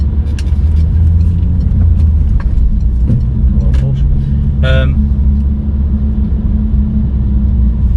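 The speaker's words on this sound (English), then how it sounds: "Traffic sucks." Steady, loud road traffic rumble fills the scene continuously, with passing vehicles blending into a dense low roar and faint voices nearby.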